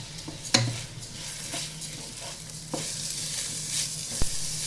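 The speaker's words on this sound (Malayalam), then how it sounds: "അരി ഇട്ടിട്ട് നമ്മളൊന്ന് ചെറുതായിട്ടൊന്ന് വറുത്തെടുക്കുക" Jeerakasala rice is lightly roasted in ghee for Kerala-style ghee rice, with a close, steady sizzle broken by a spoon scraping and knocking against the pot. No one speaks.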